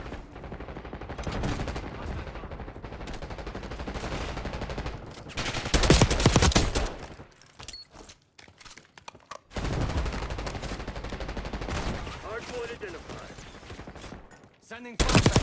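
Gunfire in the video game Black Ops 6, sustained automatic bursts and crackling shots in long stretches broken by short quieter gaps, loud and close, with a brief radio-style voice callout in the mix.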